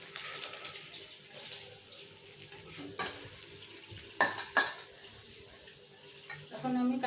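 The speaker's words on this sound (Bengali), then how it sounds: "দেখুন আমার মাছগুলো ভাজা হয়ে গেছে। এখন আমি উঠিয়ে নেব।" Fried pabda fish lifted from a frying pan with a utensil: soft background frying sizzle, a few sharp metallic clinks and scrapes against the pan, and brief clatter near the end.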